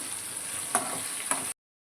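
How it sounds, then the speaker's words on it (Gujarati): Tomatoes and spices are stirred and fried in a pan while making Gujarati dal dhokli, giving a steady close sizzle broken by two sharp spoon scrapes against the pan. "થોડો ટામેટા એડ કરીશું. બધો મસાલો મિક્સ કરી દઈશું."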